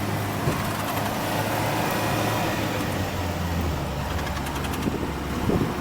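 A 1974 Land Rover 88-inch soft top drives along with a steady, even rumble of engine and road noise throughout, heard from inside or close by, with no talking.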